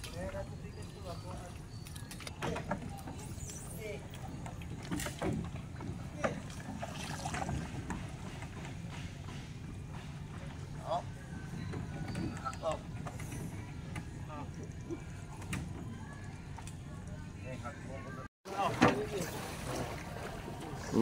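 A motorized fishing boat runs across open water with a steady engine drone, wind buffeting the microphone and water wash, while people talk over it throughout.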